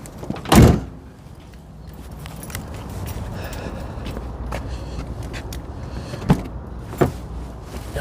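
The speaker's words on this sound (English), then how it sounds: "Close the truck bed here." A pickup truck's bed tailgate slams shut with one loud, close thud outdoors on a cold morning. A few lighter clunks and knocks follow over faint background noise.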